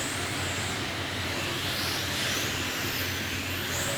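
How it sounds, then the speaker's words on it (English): Winged race cars accelerating at a track, a dense, loud engine roar that fills the whole stretch without pause, steady and close, with no voices. "You can also tell that these wing cars, they're just a different breed when it comes to the way they sound."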